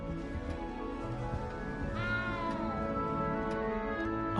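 A frightened cat in a video game lets out a drawn, wavering meow partway through, clear and fairly close over a steady ambient background hum.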